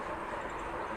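A train passes on rails nearby, heard as a steady, dense rumble and hiss that holds evenly throughout the brief moment, with no voices.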